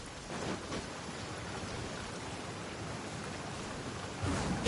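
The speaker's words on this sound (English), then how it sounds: "Taking a stroll in the middle of a downpour certainly rouses the spirit." A steady rain downpour in Genshin Impact, broad hissing wash of falling rain with a faint rumble, fairly quiet and continuous, swelling briefly near the end.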